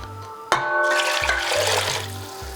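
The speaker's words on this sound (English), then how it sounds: "Next, add in 9 cups of water." Water pours into a soup pot after a sharp start, a steady splashing gush that runs continuously for a couple of seconds, close and fairly loud with no voices.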